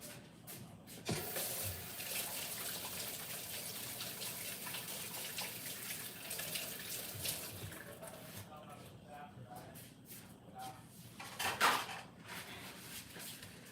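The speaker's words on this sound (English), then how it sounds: "Let me wash my hand." Water runs from a kitchen tap while hands are washed, a steady close splashing stream that shifts near the end, with faint speech underneath.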